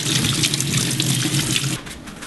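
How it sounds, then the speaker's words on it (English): Cold tap water runs steadily over a freshly peeled radish in a kitchen sink, a close, loud splashing stream that shifts tone near the end. "And then I'm going to rinse in cold water."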